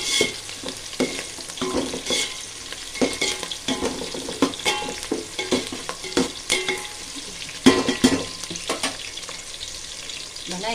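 Onion, green chilli and garlic fry in a pan for rava kichadi, a steady sizzle crackling beneath frequent scraping stirs and clinks of a utensil, close and continuous.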